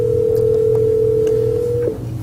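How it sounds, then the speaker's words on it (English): Steady continuous dial tone from a Cisco IP desk phone on speakerphone, loud and unbroken for about two seconds before dropping slightly at the end, with a low hum beneath. "right now it's taken my phone off hook and I'm on speakerphone on my desktop Cisco IP phone"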